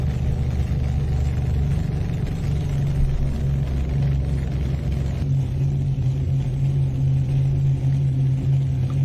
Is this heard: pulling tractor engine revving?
yes